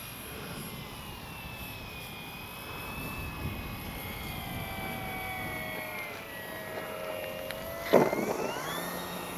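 An FMS 1800mm Ranger RC plane whines overhead with a steady electric buzz that shifts in pitch as it circles in to land without flaps. A brief bump near the end marks its touch-and-go.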